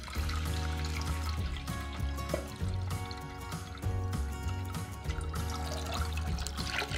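Water pours steadily into a saucepan, a continuous splashing trickle heard up close.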